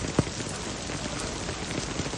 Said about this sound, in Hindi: ये देखे बारिश शुरू हो गई है और ये ओले पड़ना शुरू हो गए साथ साथ।